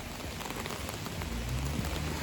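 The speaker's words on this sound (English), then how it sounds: "This rain is coming on very hard, and I'm in this rain." Heavy rain pours down steadily outdoors, a dense close hiss of drops drumming on surfaces with no talk over it.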